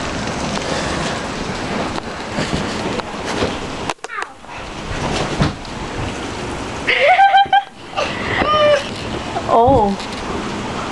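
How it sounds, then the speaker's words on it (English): Heavy rain falling during a storm, heard as a steady broadband hiss with wind buffeting the microphone and a voice speaking over it. "It's pouring down rain and like it's storming really bad."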